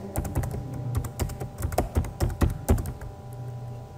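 Rapid keystrokes on a computer keyboard as a new password is entered: a quick, irregular run of close, crisp clicks and taps with no voices.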